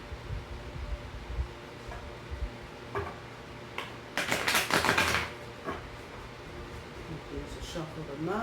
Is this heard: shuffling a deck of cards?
yes